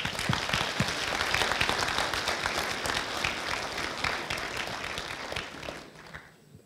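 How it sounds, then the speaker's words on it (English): A lecture audience applauds before a Nobel laureate's talk in Lithuania, with dense, sustained clapping from many hands that stays loud throughout and then tapers off at the end. "So a big applause for them."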